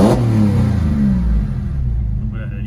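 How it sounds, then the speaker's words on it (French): A Porsche 997 Carrera S engine revs loudly nearby, its exhaust roaring and rumbling before settling back toward idle. "la ligne d'échappement procure vraiment de bonnes sensations, une jolie sonorité"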